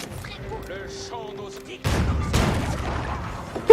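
A cannon in Age of Empires IV fires at a ballista: after quiet game tones and a voice, a deep boom lands, followed by a second heavy blast and rumbling impacts in the battle.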